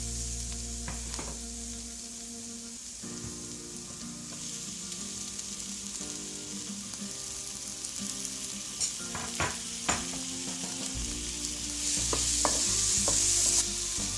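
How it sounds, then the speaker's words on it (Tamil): Tomatoes sautéing with ginger-garlic paste in a pot for mushroom biryani, a steady close sizzle with occasional stirring scrapes and clinks, louder hissing toward the end. "இப்போ ஓரளவுக்கு தக்காளி நல்லா வதங்கிடுச்சு"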